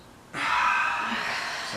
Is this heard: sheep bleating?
no